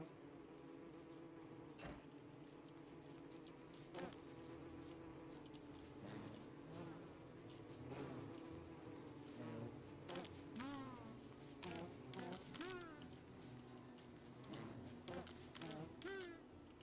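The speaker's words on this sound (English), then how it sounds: "So many bees." Bees buzz in Don't Starve Together, a steady faint swarm drone with several insects flitting past, joined by soft clicks and game sounds throughout.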